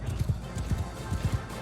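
A lord's horse in Mount & Blade 2: Bannerlord clops with rapid, irregular hoofbeats up close, thudding in quick clusters amid battle noise, with no distinct neigh standing out.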